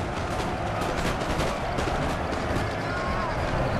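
Musket volleys crackle continuously in the battle game Napoleon: Total War, a dense, steady roar of massed gunfire with no clear gaps, heard at a moderate distance.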